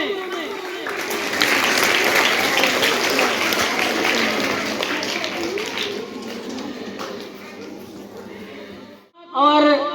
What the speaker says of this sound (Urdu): ریان مصباح, آپ سب کی بھرپور تالیوں میں.